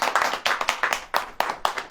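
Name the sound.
congregation clapping hands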